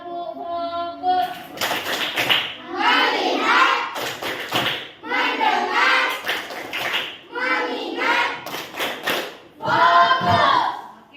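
A group of people claps a rhythmic Tepuk Fokus routine in a school setting, with sharp clap bursts mixed into loud chanting voices across the whole passage.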